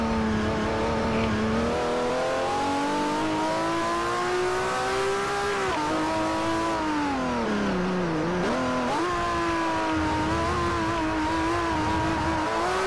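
A Ferrari 599 GTO V12 roars continuously through a race in Forza Motosport 4, its engine pitch rising and dipping as the car drifts around the final turn, with a faint tire squeal under the steady, loud drone.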